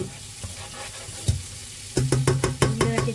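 Ground chili paste sizzles in a pan as previously fried beef lung is stirred in, a steady close crackle broken by rhythmic scraping and clattering strokes of a spatula against the pan.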